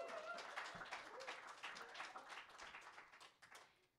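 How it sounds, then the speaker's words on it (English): An audience applauds a singer at a live music performance. The clapping is faint and distant, a steady crowd patter that fades slightly toward the end. "Another round of applause"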